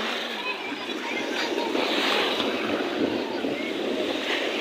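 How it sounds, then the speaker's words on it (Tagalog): Strong sea waves roll and wash continuously onto a beach, a dense, loud rushing surf with wind buffeting the microphone. "Ang lakas na po ng alon."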